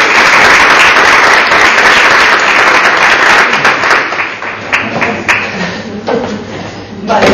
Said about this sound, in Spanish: un pequeño aplauso para Judith.